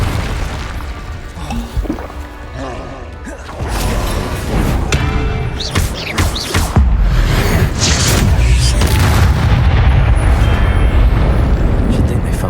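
Confringo blasting spells explode in Hogwarts Legacy, loud booming impacts and crashing debris in a dense, noisy battle, with a voice talking over parts of it.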